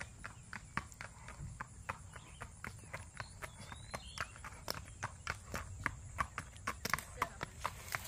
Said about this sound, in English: here comes Charlie Brown down the driveway